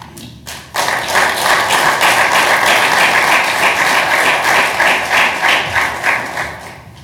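An audience at a Wichita city council business meeting breaks into loud clapping after a public speaker, a sudden dense burst of applause that holds steady and then tapers off near the end.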